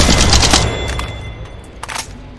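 Automatic gunfire in the mobile shooter Apex Legends Mobile, with a loud close burst of rapid shots that gives way to a few sharper isolated cracks and fading echo.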